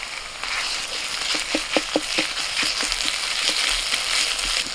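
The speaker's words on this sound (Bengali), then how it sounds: "পেঁয়াজটা ভাজা হয়ে গেলে দিয়ে দিচ্ছি আদা রসুন বাটা।" Ginger-garlic paste fries with onions in oil, a close, even sizzle under a quick run of clicking spatula strokes in the middle, with no voices.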